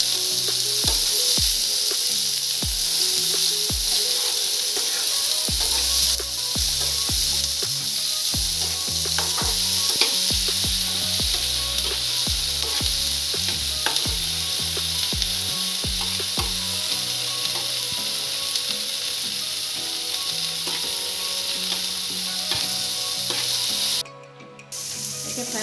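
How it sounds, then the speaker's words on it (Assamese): Tomatoes fry in a pan with cardamom and cloves for shahi paneer, giving a loud, continuous close sizzle broken by the clinks and scrapes of stirring, with no voices. "ইয়াতে টমেটোখিনিও দি আছোঁ। অলপ ফ্ৰাই কৰি পানী ঢালি বইল কৰি লওঁ।"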